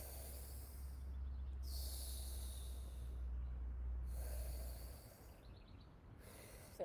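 Slow, deep breathing during a balance exercise, several long airy inhales and exhales alternating in a steady rhythm, close and clear over a low background hum.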